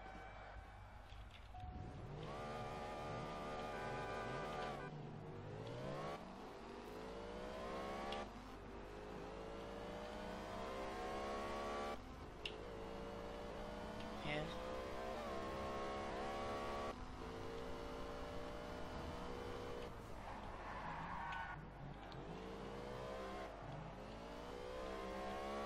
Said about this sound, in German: Der Wagen lässt sich richtig geil steuern.